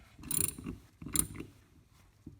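An oversized wrench working a part on a Bing carburetor from a BMW R90/6 motorcycle, giving two short bursts of metallic ratcheting clicks with a faint tap at the end, close and quiet.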